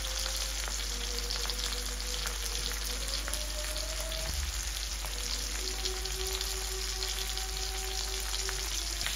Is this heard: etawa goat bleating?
no